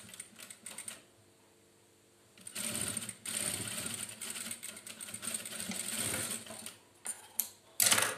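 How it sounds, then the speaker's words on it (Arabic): Sewing machine stitching the cuffs of a fleece pajama top, with a few quiet starts early, then a longer steady run of rapid stitching and some short bursts at the end, close and alone without talk. "نخيطهم بهذه الطريقة، نخيطهم لداخل ونلصقهم حتى خيط البيجاما"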